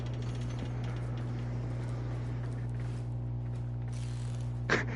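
Foundry fabricating machine in a video game working steadily, a continuous mechanical hum with ratcheting, gear-like clicks and a brief louder clank near the end, with no voices.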